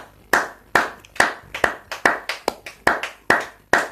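A church congregation claps in a steady rhythm, about a dozen sharp, loud, close hand claps evenly spaced, with no voices over them.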